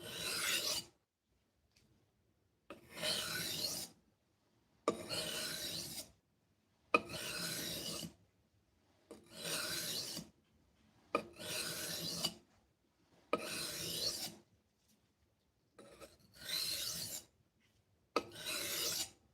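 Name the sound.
sanding with 1,000 grit abrasive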